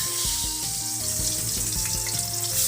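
Pomfret fish shallow-frying in hot oil for a Bengali jhal, a constant bright sizzle heard close under steady tonal music.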